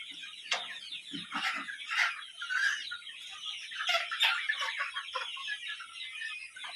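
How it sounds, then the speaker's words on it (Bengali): Sonali chickens cluck and chatter steadily close by on a farm, several birds overlapping in short bursts against a faint background hiss. "রাজা মুরগি যাইতেছে এই যে নিচে সোনালি আর ওপরে যেদিকে আছে সব সোনালি"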